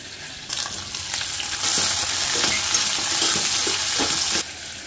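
Onions and mutton bones fry in hot oil inside a cooker, giving a steady, close sizzle with scraping stir sounds and light metallic clinks throughout.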